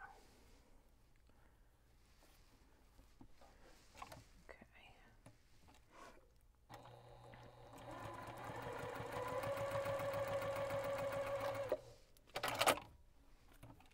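A sewing machine stitches a fabric strip onto the top edge of a background fabric, starting in a steady whir that runs for several seconds at close range before stopping, with faint rustling and handling noises around it.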